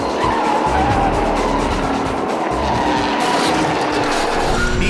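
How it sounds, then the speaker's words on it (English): A race truck skids in a violent spin-out during a crash, making a loud, unbroken roar of engine and tire scrub that stays dense and harsh throughout. "Another truck rams him, sending him skidding toward the wall"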